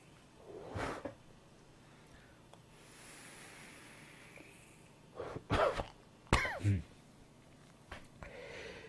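Someone coughs after inhaling e-cigarette vapour at 12 mg nicotine, with a faint cough early on and then two loud, close harsh bursts of coughing and throat clearing.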